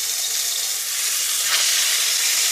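Rabbit meat sears in hot ghee, giving a steady, loud broadband sizzle that holds evenly throughout with a brief swell near the middle.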